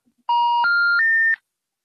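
Disconnected phone call tone: three loud, clean electronic beeps, each stepping higher in pitch, played back to back, followed by silence.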